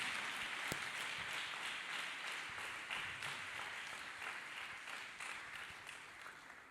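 A church congregation claps hands in praise, a steady, fairly faint wash of rhythmic clapping that continues throughout.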